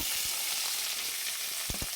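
Cut green chillies frying in hot oil in a kadhai with a continuous bright sizzle, punctuated by a few soft knocks of stirring.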